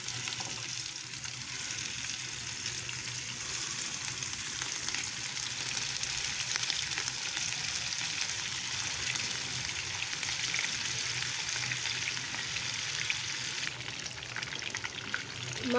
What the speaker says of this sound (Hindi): अब इनको हल्के से फ्राई करेंगे।